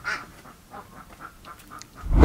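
Ducks quacking in a garden setting, a short run of repeated calls at moderate distance, followed by a loud rumbling burst at the end.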